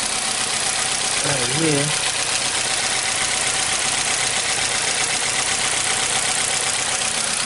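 A 2015 Hyundai Accent with a CNG fitting idles rough, running rich with crank sensor and fuel trim faults. A steady, loud, noisy engine drone runs throughout, and a brief voice cuts in early.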